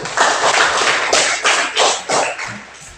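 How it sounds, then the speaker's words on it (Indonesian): Close, loud clapping from classmates after a group presentation in an Indonesian classroom, uneven bursts of hand claps with short pauses between them and no talk over them. "Ya, silakan tepuk tangan."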